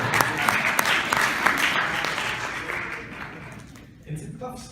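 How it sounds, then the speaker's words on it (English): Applause from an audience at a brain health forum, steady clapping with a few sharper claps standing out, fading toward the end as a voice begins speaking. "I think we should have a round of applause for you"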